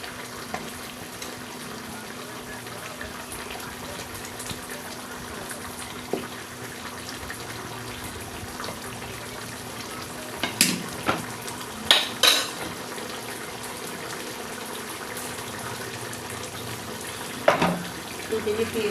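Fried hilsa fish pieces go one by one into a simmering chilli curry, making soft sizzling and bubbling with a few sharp clinks of a utensil against the pan, under occasional talking.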